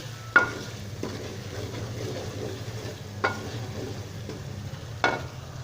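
Dry masala of salt, black pepper, turmeric, coriander powder and garam masala fries softly in a pan for dal mash, a quiet sizzle broken by four scraping stirs spaced a second or two apart.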